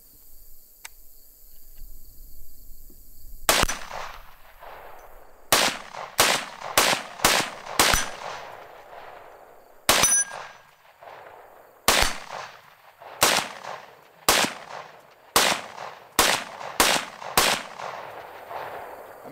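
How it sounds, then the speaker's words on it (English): Gunshots from target shooting with a pistol fitted with a red dot sight: about fourteen sharp, loud cracks at irregular intervals, mostly spaced around a second apart, over a quiet background with no talk. "So let's just do some regular shooting here."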